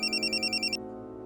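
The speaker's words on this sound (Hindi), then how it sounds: "इसका फोन आ गया।" An incoming-call phone ringtone trills in quick, even pulses close by, then cuts off abruptly, leaving a soft steady tone underneath.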